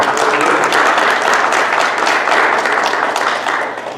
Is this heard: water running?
no